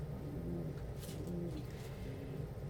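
Loft pigeons coo softly in low, rolling repeated calls, faint and close, with a steady background hum and a few brief higher rustles.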